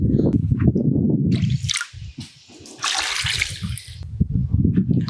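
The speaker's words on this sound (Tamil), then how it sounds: "இந்த மாதிரி உயிர் தண்ணி கொடுக்கும்போது நீங்க பார்க்கணும் ஏர் பபிள்ஸ் எதுவும் உருவாகக்கூடாது." Water poured onto firmed soil around a newly planted fruit plant, a splashing, gurgling pour in two bursts with a short pause between, close and fairly loud, with no talk.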